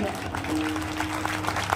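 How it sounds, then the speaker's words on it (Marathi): Loud, steady clapping from an audience at a kirtan devotional gathering, a dense continuous wash of applause with a held tone running underneath. "खरंच एकदा जोरदार टाळ्या"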